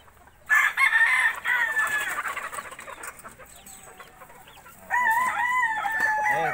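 Several chickens clucking nearby, with a rooster crowing loudly twice, the second crow starting about five seconds in.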